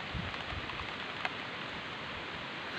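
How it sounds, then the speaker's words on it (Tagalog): Heavy rain pours steadily in a rural province, a dense continuous hiss with no pauses and one brief sharper tap partway through. "Malakas yung ulan."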